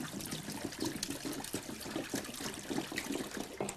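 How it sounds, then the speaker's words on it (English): Water poured into two tanks holding a submerged power strip, a steady trickling and splashing pour with a broad wash of noise, close and continuous with no talk. "Add water to both tanks and see what happens."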